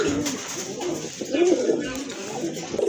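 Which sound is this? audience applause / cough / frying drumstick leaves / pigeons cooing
pigeons cooing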